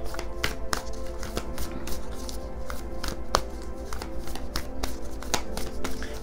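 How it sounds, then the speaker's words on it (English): Oracle cards handled and shuffled continuously, close by: a rapid, steady stream of soft slaps, flicks and riffles with a low background hum throughout. "I'm gonna go ahead and get one of these oracle cards for you."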